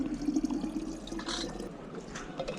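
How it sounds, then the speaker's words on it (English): At a refill point in a Bergen light rail station foyer, a water bottle fills from a tap with a steady splashing gush, set against an echoing indoor hum and faint background activity. "then you've got a water bottle. I fill up here every time"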